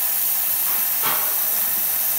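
Steam wand on an Isomac espresso machine hissing steadily, a loud continuous broadband rush that swells briefly in the middle before settling back.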